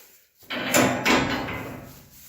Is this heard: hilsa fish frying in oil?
no